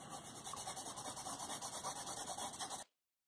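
Dry pastel pencil rubbing across paper in a steady, rapid back-and-forth rhythm of soft scratchy strokes, close and quiet, with no talk, ending abruptly into silence.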